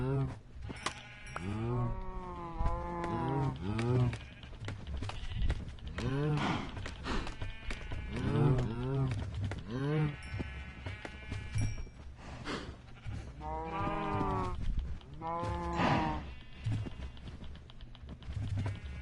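Cows in the Minecraft video game, repeated close bleating moos in irregular bursts over a steady background, several animals calling one after another.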